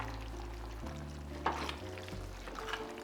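A one-pot ground beef dinner, starting to stick at the bottom of the pot, is stirred with a scraping motion over a low, steady sizzle. One sharper scrape stands out near the middle. There is no talking.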